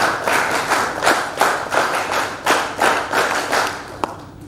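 An audience at a silver jubilee ceremony claps in a series of rhythmic bursts that swell and fade, with close, sharp hand claps and no speech.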